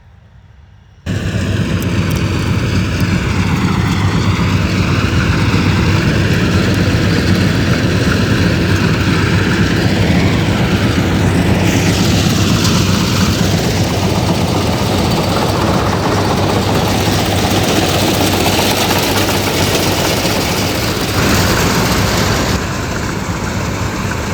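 A Mahindra tractor engine, a 755 DI out working a field, starts after a moment of quiet and then drones loud and steady at close range, its pitch dipping and rising slightly as the load changes.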